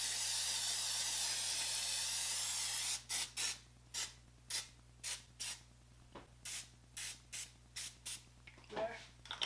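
Cooking spray misted onto a baking pan for brownies: one long continuous hiss, then about a dozen short, evenly spaced bursts close up, with a faint rustle at the end.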